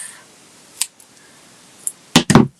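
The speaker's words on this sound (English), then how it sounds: "I'm going to cut one in half" Scissors snip a sheet of crafting paper in half, a few faint isolated clicks followed by two quick, close, crisp cuts near the end, with no talking.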